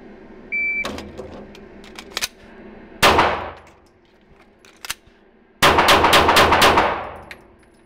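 Handgun shots crack sharply at an indoor range: a few scattered single reports, one loud burst around three seconds in, then a rapid string of about five shots after a magazine change, with small metallic clicks and handling noises between.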